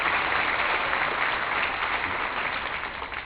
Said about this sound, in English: but let's give Jacob a round of applause